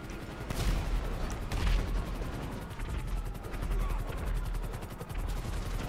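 In GTA V Online, an attack helicopter fires continuously, a fast rattling stream of gunfire over rotor noise, with occasional booms and shouting voices in the mix.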